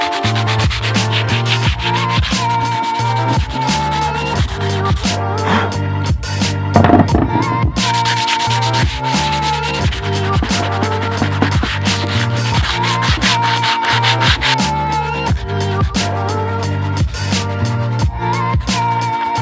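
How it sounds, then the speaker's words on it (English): Steady, loud abrasive rubbing as a longboard deck is sanded, with continuous back-and-forth strokes and brief pauses throughout, close up with no talking. "the board is sanded down."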